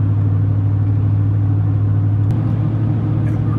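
A car driving on a road with a steady, loud low engine and road rumble throughout, constant and unbroken, with a brief faint click near the end.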